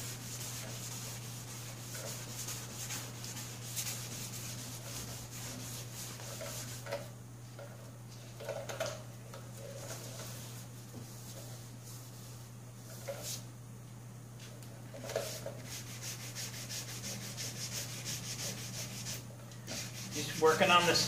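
Wet sanding with 500 grit sandpaper across Rust-Oleum paint on a golf cart, a steady soft rubbing and scrubbing texture with occasional louder strokes, close up over a constant low hum.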